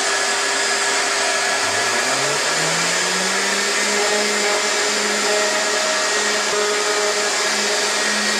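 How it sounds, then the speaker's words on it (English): An electric sander running on a wooden redheart bandsaw box, sanding at 220 grit: a loud continuous whirring drone that holds steady, with a tone that dips and rises as pressure on the wood changes. "We're going to sand this down to the 220."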